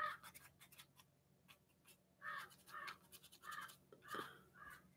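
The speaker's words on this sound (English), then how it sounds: "you guys hear the birds?" Outdoor birds give faint, repeated harsh caws and chirps at some distance over quiet background noise, with soft nearby scratching sounds in between.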